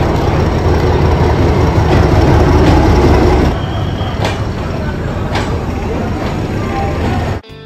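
A crowded Howrah railway station at night: a dense, loud rumble of trains and crowd noise that eases partway through, with sharp metallic rail squeals and a sudden cut-off at the end.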